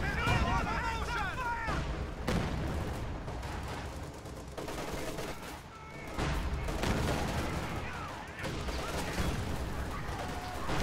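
MG42 machine guns fire in Company of Heroes 2 amid a Western Front battle, with rapid bursts of gunfire and booming explosions overlapping in loud, dense waves while a voice talks over the action.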